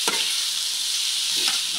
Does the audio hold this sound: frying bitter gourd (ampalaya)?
yes